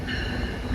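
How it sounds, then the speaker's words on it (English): A passenger train arriving at a station in Canada, a steady loud rumble of rolling railcars with faint high wheel whine throughout. "The train was supposed to come in 3 minutes and it's here just in a minute."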